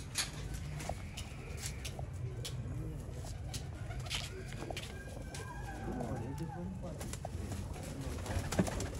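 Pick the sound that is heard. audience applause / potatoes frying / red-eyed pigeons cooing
red-eyed pigeons cooing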